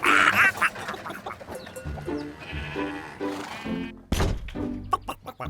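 Minecraft chickens clucking in a blocky game world, with a run of short, close, fairly loud squawks and clucks and a few quieter calls between them.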